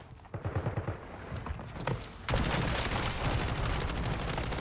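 Gunfire in the Call of Duty Warzone video game: a burst of rapid shots up front, then a dense, sustained fusillade of close, loud automatic fire continuing to the end.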